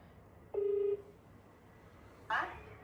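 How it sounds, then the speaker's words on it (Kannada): A phone call is placed on a mobile: one steady beep-like tone sounds briefly, followed after a pause by a short burst of ringing, both fairly quiet. "ಸೊ ನಮ್ಮ ಮಾತೃಶ್ರೀಯಲ್ಲಿ ಕರೆ ಮಾಡುತ್ತಿದ್ದೀವಿ"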